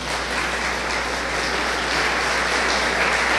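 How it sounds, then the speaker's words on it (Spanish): Church congregation applauds during a sermon, steady dense clapping filling the room evenly and continuing at a constant level throughout. "Dele un fuerte aplauso al Señor."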